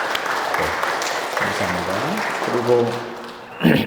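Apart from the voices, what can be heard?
church congregation applauding to welcome a member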